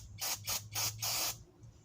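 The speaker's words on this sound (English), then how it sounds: "we're going to take the float and just spray the float off" Cleaner sprayed onto a push mower's carburetor float in four short hissing bursts, the last one longer, with a low mechanical hum running underneath.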